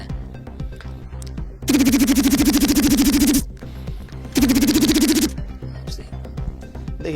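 Two bursts of rapid rattling vocal imitation mimic machine-gun fire, each lasting one to two seconds, separated by quieter background murmur.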